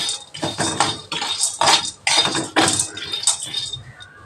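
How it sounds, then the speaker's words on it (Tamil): Peanuts and roasted gram are dry-roasted in a pan, stirred with a metal utensil in loud, rhythmic rattling scrapes that come in close bursts, with no talk. "நல்லா வறுத்தெடுக்கலாம்."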